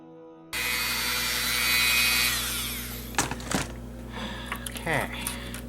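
A power drill fitted with a bit for fitting a jack on a guitar build starts up and runs in a steady, rising whine, then bites into the wood with uneven grinding bursts, loud and close.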